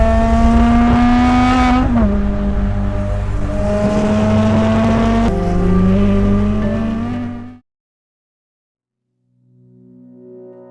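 A British supercar's naturally aspirated 7.3-litre V12 of 750 horsepower roars loudly under acceleration, its pitch climbing through two gear shifts before cutting off abruptly into silence, followed by a brief faint tone.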